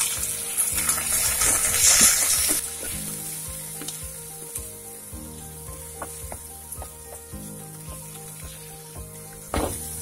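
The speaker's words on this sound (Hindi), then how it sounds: "अब इसी में टमाटर को भी डाल देंगे।" Tomatoes hit spiced oil for a cucumber sabzi with a loud hissing burst that settles into a steady, softer sizzle, punctuated by repeated clanking stirs of a spoon against the pan.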